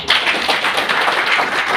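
Dense applause from an audience at a Kota health-plan seminar, a steady wash of many hands clapping for about two seconds without a break.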